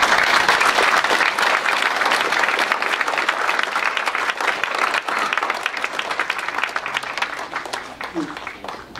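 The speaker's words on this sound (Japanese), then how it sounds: "どうぞもう一度拍手を。" Audience applause at a social gathering of a Taiwanese delegation visiting Japan, a loud, dense round of clapping from a crowd that holds steady before thinning slightly at the end.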